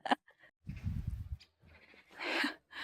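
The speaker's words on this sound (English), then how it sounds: "Look, there's all the sheep going out." Sheep bleating outdoors on a walk through a Bulgarian village as the flock heads out, with a few short, wavering bleats at moderate distance and quiet gaps between them.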